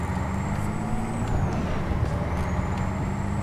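A truck's air brakes hiss and sigh as it comes to a stop in American Truck Simulator, loud and close over a steady engine rumble, with faint high whistling tones drifting above.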